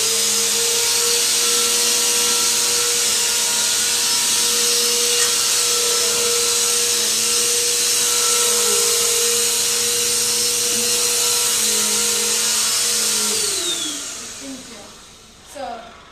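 A household vacuum cleaner runs steadily at close range with a loud, constant motor drone and whine, then winds down near the end, leaving a brief bump of handling noise.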